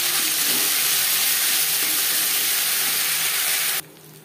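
Ginger and green chilli frying in hot oil with panch phoron and bay leaf, a loud steady sizzle that stays dense and unbroken before cutting abruptly to quieter frying near the end.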